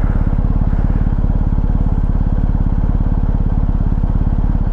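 A BMW R1250GS motorcycle engine idles steadily and low, a close, even mechanical pulse with a deep throb that holds unbroken throughout.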